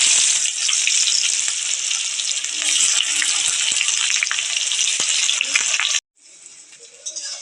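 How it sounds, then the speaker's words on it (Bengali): Sliced onions fry in hot oil for the crispy birista of a chicken biryani, giving a loud, continuous sizzle that cuts off briefly near the end and then returns more quietly. "এবার কিন্তু আমি বেরেস্তার জন্য পেঁয়াজটা ভেজে নিচ্ছি।"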